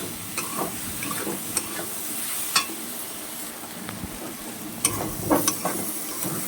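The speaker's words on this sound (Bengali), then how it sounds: "এবার এটাকে ভালো করে নাড়তে হবে" Potatoes and banana flower frying in a pan, stirred on low gas: a soft continuous sizzle with scattered scrapes and clicks of the spoon against the pan, close and fairly quiet.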